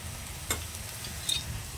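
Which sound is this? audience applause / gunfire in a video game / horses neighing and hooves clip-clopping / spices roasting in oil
spices roasting in oil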